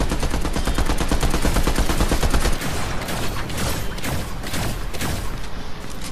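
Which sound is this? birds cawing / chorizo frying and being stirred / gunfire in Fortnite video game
gunfire in Fortnite video game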